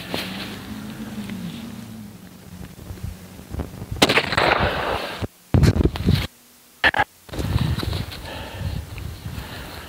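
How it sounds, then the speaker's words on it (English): Two rifle shots fired at a distant target around 500 yards away, each a sharp loud crack with a short tail, a couple of seconds apart, over faint outdoor background noise and no talk. "Fire two this time and see if I can get a group"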